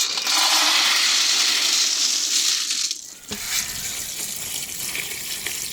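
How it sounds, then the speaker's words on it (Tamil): Water gushing and splashing into a bowl of small meal maker soya chunks as they are soaked, loud and steady for about three seconds before dropping to a softer, continuing trickle and sloshing. "தண்ணி ஊற்றி வச்சு நல்லா அது மாதிரி உள்ளே அமுக்கணும்"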